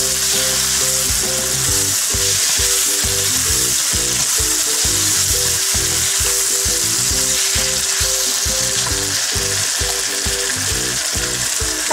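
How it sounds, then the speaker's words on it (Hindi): Chopped tomatoes sizzle and fry loudly in a karahi for kabab masala, with steady hissing and repeated stirring scrapes throughout and no talking. "अब इसके अंदर कटे हुए टमाटर डाल दें।"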